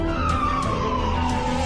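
An ambulance siren wails in an animal-rescue video game, a loud, steady electronic tone that slowly bends downward and plays alone with no voices over it.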